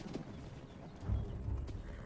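A wild horse herd led by a stallion in American spring countryside makes faint, muffled hoof thumps and shuffling, soft and distant under low background rumble.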